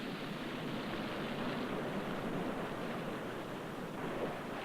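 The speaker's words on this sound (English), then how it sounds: "Sweeping across the oceans, the waves gnaw and gouge the rock" Ocean waves washing against rock as a steady, dense roar of surf, continuous and fairly faint, with no distinct breaks between swells.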